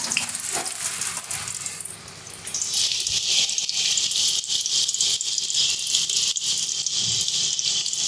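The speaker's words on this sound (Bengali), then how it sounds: "এবার কিছু সবজি আমরা এদিকে ভেজে নেব দিয়ে দিচ্ছি কুমড়োটা" Pumpkin pieces dropped into hot oil in a wok set up a loud, steady sizzle and crackle that rises sharply after a brief rustle and then holds close and continuous.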